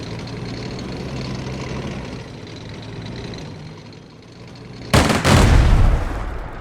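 A tank in the WWII Pacific strategy game Strategic Mind: The Pacific attacks enemy infantry, with an engine idling low before a sudden loud blast of gunfire and a rumbling explosion that rings out for over a second.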